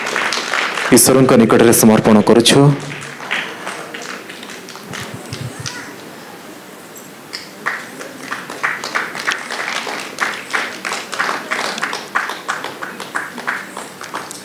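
An audience at an Odissi dance event claps in a steady, scattered patter of applause that continues while a voice speaks over a microphone.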